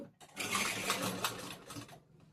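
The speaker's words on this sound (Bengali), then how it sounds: "আমি 1/2 ইঞ্চি বাদ দিয়ে সেলাইটা করব" A sewing machine runs steadily as it stitches blouse fabric along a half-inch seam, a close, continuous mechanical whir lasting about two seconds before it slows and stops.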